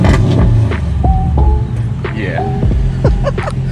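A Mercedes CLK500 V8 engine after a stage 2 tune runs steadily with a strong low rumble throughout, close by, while people talk over it.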